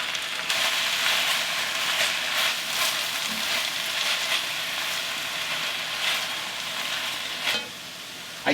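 Spinach and garlic sizzle in a hot pan with a steady, close frying hiss, punctuated by occasional louder crackles and stirring scrapes, continuing throughout without speech.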